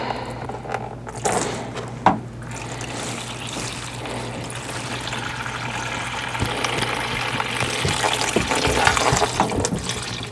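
Fluid gushing and splattering from an open petcock while draining a Lamborghini Murciélago during engine removal, a continuous close wet hiss and splash that swells louder toward the end.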